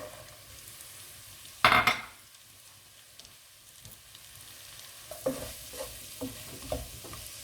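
Beef frying with pilau masala in a pot: a sharp clatter of stirring against the pot, then a low sizzle with scattered scrapes and taps, close by and with no talk.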